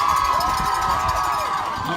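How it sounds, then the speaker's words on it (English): Fans of CBS at a Challenge Cup playoff game cheer loudly after a defensive play, a continuous crowd roar with shouts and whoops throughout. "it was the fans of CBS giving a great cheer to Trevor Ivany"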